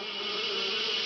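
Cartoon mosquitoes give off a steady, continuous high-pitched buzz, fairly loud and unbroken, with no voices over it.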